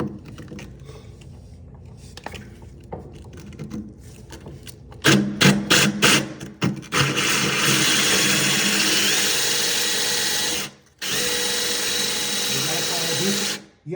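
Power drill boring through ceramic tile kept wet with water, beginning with soft scrapes and short bursts, then a loud steady whine that breaks off briefly before resuming, near and dominant.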